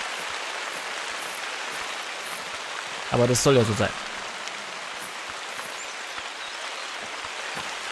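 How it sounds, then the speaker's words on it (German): Heavy rain in the hunting game The Hunter: Call of the Wild, a steady hiss of rainfall on surfaces throughout, briefly overlaid by a short spoken phrase in German near the middle. "Und der Regen ist so laut, dass ich mich selbst nicht mehr höre"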